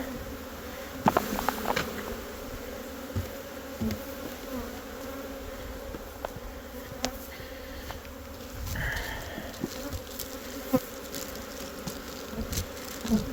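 Steady buzzing of many honey bees at close range around hive frames, a dense continuous hum with a few louder passes and faint handling noises.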